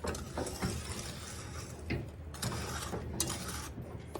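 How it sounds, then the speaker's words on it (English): Spoon stirring lemon icebox pie filling in a pan: repeated scraping and clicking strokes against the sides and edges, close and fairly quiet, with uneven rhythm. "Go around that little edge there just to make sure you get everything mixed well together"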